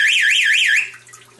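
An aquarium sump water alarm set off by a float switch sounds a loud, close electronic warble that sweeps up and down rhythmically, then cuts off abruptly, leaving a faint low hum.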